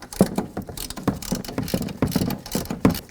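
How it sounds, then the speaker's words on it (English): A hand ratchet clicks in quick uneven bursts while loosening control arm mounting nuts on a 2007-2017 Ford Expedition, close up and with no speech. "Now we're going to go ahead and remove those 3 mounting nuts."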